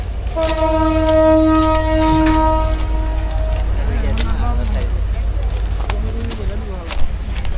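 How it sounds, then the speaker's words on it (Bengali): A passenger train at a station blows a long, steady horn blast, then a low engine rumble continues while people talk nearby. "ট্রেন চালু হয়ে গেছে।"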